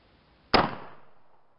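A single sharp gunshot cracks out at close range from a rifle with kick like a 12 gauge, fired outdoors, followed by a long fading echo and no talk.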